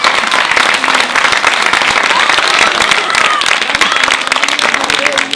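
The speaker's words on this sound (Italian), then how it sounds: "Fate un applauso, poi vi spiego." An audience at a live Italian comedy stage show breaks into loud, dense, continuous applause with clapping, while voices carry on over the top.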